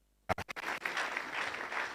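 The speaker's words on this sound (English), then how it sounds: "A bigger round of applause for him." An audience at a youth entrepreneurship and leadership event breaks into applause, a few sharp individual claps swelling quickly into steady sustained clapping from a crowd.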